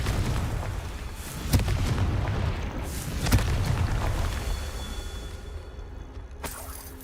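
Blasting curse explosions in the Hogwarts Legacy video game: a couple of sharp booming bursts, each followed by a rumbling tail, over steady game ambience with a final pop near the end.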